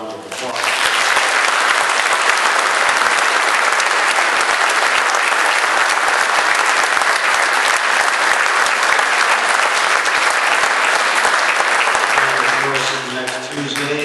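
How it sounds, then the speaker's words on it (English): Loud, sustained applause from the audience at a 2010 Rice Lake mayoral debate fills the room for about twelve seconds, dense and steady, then tapers off as a voice begins speaking. "how about a nice round of applause?"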